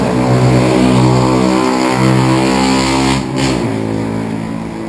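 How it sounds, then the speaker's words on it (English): A moped drives past on a street, a buzzing, whining engine note that rises and then drops as it goes by, loud and near, with no talk over it. "There goes the obligatory screaming moped."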